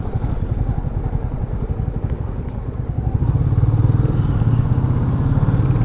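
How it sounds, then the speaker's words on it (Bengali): A motorcycle cruising on a road tour from Dhaka to Lama in Bandarban, its engine a steady, close, throbbing drone that grows a little louder and fuller partway through, with no speech over it. "মহিউদ্দিন এবার প্রথম আসলো নিজের বাইক নিয়ে ট্যুরে।"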